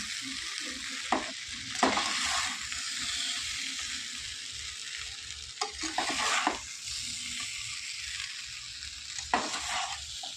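Amla pickle stirred in an overfilled kadai, a steady sizzling hiss broken by a few louder scraping, stirring strokes at irregular intervals, close and alone.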